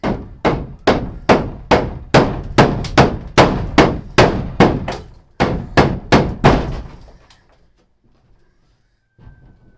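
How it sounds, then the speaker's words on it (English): A hammer strikes wood about fifteen times in a fast, even rhythm during storm-damage clearing work. The sharp, loud blows stop abruptly and are followed by near silence and one faint knock. "Hammer."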